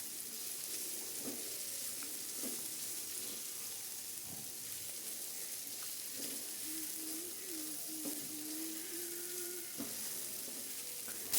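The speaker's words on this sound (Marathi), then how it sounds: "आता चिरून घेतलेल्या भेंडी आपल्याला टाकून घ्यायची आहे आणि हे सर्व योग्य प्रकारे आपल्याला मिक्स करून घ्यायचे आहे" Chopped okra sizzles steadily as it is sautéed in a pan for a quick okra bhaji, with soft, irregular stirring scrapes scattered through a continuous frying hiss.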